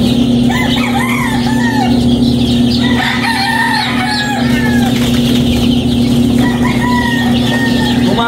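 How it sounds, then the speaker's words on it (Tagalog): Chicks and chickens at a breeder's farm cluck and chirp loudly and constantly, several birds overlapping close by over a steady background hum. "Lagay na natin yung sisiw"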